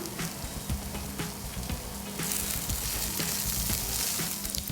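Chicken murtabak filling of mashed chicken sizzling and frying in a pan while coriander powder, pepper and salt are stirred in, a continuous crackling hiss with scraping stir strokes, no talking.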